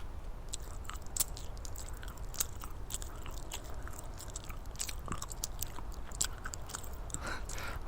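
Someone biting into and chewing bread, with quiet, repeated crunchy bites and soft mastication sounds close to the microphone, no talking.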